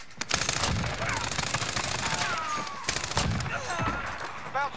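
Gunfire in the video game Warzone: rapid bursts of shots crack through a busy game mix, mostly in the first half, with spoken voices running alongside.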